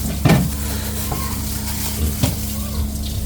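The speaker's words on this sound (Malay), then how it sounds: "Kita goreng dengan kunyit dulu lah." Talang fish sizzling as it fries with turmeric in a pan, a steady close sizzle broken by a few stirring clatters and utensil knocks.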